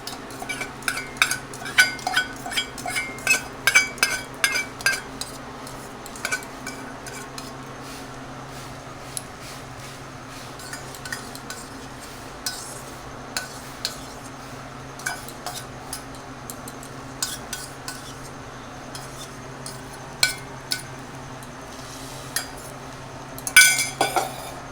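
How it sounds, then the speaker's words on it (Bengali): Beaten egg being stirred in a bowl for a country-chicken omelette, heard as repeated close clinks and scrapes of a utensil against the bowl, clustered early and then more scattered, with a quiet background hum. "ডিমের গুলাটা এখন আমি একটু ঘুরিয়ে নিচ্ছি"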